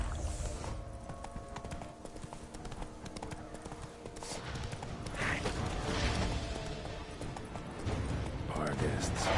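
Roach, the horse in The Witcher 3: Wild Hunt, gallops with steady rhythmic hoofbeats under occasional talking, while ambient game sounds drift in the background.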